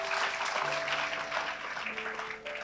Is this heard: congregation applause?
yes